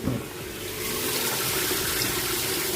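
Water rushes into a Hitachi SF-160KJS top-load washing machine that has a spin fault and will not cut off its water supply. The inflow makes a steady, fairly loud hiss and gush that continues without a break.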